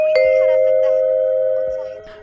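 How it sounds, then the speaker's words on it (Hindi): A flat doorbell sound effect rings once as a clear, sustained electronic chime that slowly fades over about two seconds. "तभी उनके फ्लैट की घंटी बजती है।"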